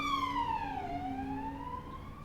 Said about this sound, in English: I think it's an ambulance passed by